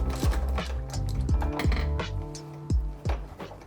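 A ratchet wrench clicks and clunks while loosening strut bolts on a Porsche 944, with close metallic taps and repeated ratcheting in a quick uneven rhythm.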